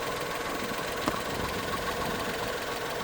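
A Honda Attack Unicorn truck motor idles steadily, a quiet, smooth, even mechanical hum with a faint regular knock and no other sounds on top.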